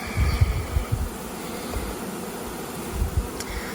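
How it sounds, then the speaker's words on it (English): A low, steady buzzing hum of many honey bees just shaken out of a box, with soft thumps and rustles in the foreground and no voices. "I just shook a bunch of bees out of the box"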